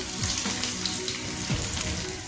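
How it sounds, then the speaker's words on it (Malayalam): Potatoes frying in a pan for an onion bhorta dish, a steady close sizzle with faint crackling and occasional stirring, continuous and fairly loud with no voices. "ഇത് നല്ലതുപോലെ ഒന്ന് ഫ്രൈ ചെയ്തെടുക്കാം ഉരുളക്കിഴങ്ങൊക്കെ നല്ലോണം ഫ്രൈ ആയി വരുന്നുണ്ട്"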